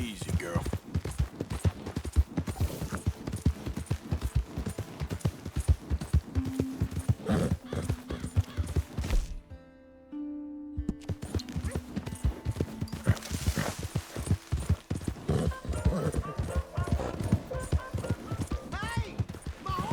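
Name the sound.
horse hooves clip-clopping in video game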